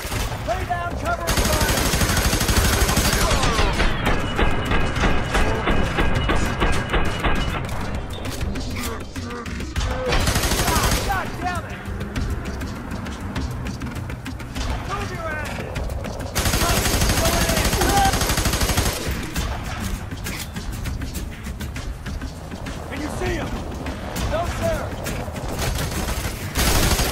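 Heavy covering fire in F.E.A.R. 3, continuous automatic gunfire and machine-gun bursts filling the whole stretch, with shouted voices cutting through the loud, close battle.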